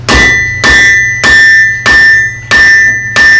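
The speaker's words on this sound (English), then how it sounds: "how his hammer blows are actually coming all the way through to the center" A blacksmith's hammer strikes a hot workpiece on an anvil at a blacksmith event, giving about six loud, evenly spaced ringing blows, each with a bright metallic ring that fades before the next.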